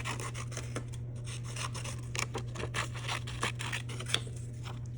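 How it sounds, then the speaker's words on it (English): Scissors snip steadily through paper, cutting out a hat shape in a continuous rasping run of close cuts over a low constant hum. "And I'm going to go ahead and cut that out."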